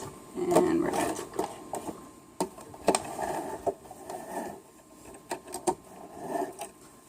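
A sewing machine back stitching a seam for a cozy sack, its motor whirring in short bursts with stops and restarts between runs, close and fairly quiet.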